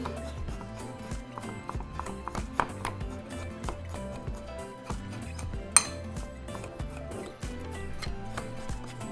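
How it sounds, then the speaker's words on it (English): Brown sugar and cinnamon stirred together in a bowl for cinnamon rolls, a steady run of close clinks and scrapes of a utensil against the bowl with a rhythmic, busy pattern and no speech. "for our brown sugar and cinnamon, we're just going to mix them together"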